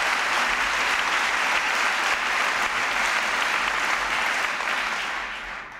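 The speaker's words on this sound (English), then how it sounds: "I'm glad you're clapping." Steady, dense applause from a large audience at a presidential speech on citizenship, filling the hall for several seconds and slowly fading at the end.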